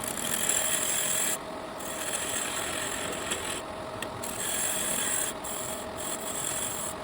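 A box blank spinning on a wood lathe throws a continuous rough, rasping cutting noise from the tool against the wood, with a steady high whine and brief dips where the cut eases, close and fairly loud, with no talk.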